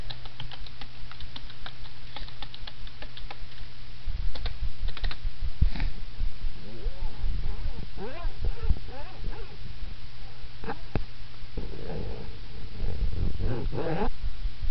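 Password being entered on a computer keyboard, bursts of quick clicking keystrokes with short pauses, close and clear, with a little background noise.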